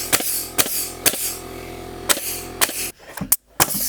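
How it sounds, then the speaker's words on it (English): A nail gun drives nails into plywood in a run of sharp, loud single bangs at uneven intervals, each a crisp percussive crack with a brief tail and a steady mechanical hum underneath. "Only a gun that shoots different size nails."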